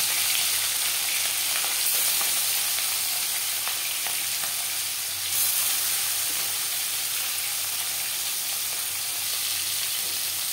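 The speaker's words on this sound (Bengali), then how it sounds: "এবার দিয়ে দেব ম্যারিনেট করে রাখা মাছের মাথা আর মাছ।" Loud, steady sizzling of marinated pangas fish and fish heads frying in hot oil, a continuous crackling hiss with small pops throughout, no talking.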